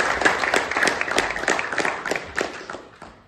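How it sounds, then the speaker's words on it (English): An audience at a university talk claps in a short round of applause, a busy spread of hand claps that gradually thins and fades toward the end. "Can we have a round of applause for that?"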